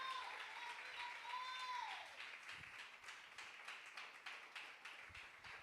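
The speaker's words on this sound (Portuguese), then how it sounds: "salve de palmas para o Senhor Jesus nessa noite" A church congregation at an evening service claps together in steady, continuous applause, faint and distant, with a sustained musical tone fading out near the start.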